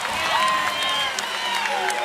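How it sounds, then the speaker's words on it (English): A packed arena crowd at a women's college basketball game, NC State at Virginia Tech, cheering and applauding in a steady roar, with whistles and shouts over the din and no pause. "Crowd getting involved"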